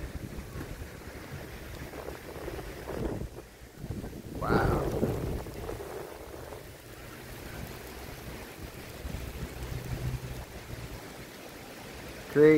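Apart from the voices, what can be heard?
wind and rain in a thunderstorm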